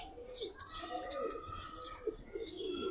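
Caged pigeons coo in a continuous soft murmur nearby while people talk over them.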